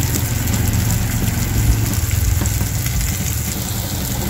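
Garlic and onion frying in a pan for lumpia, a steady dense sizzle with crackling pops running continuously and fairly loud, close up, with no voices over it.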